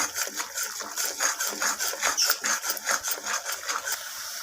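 Spiced rohu fish curry being stirred and fried in a pan, giving a steady close sizzle with rhythmic scraping strokes of the spoon repeating throughout, and no talking.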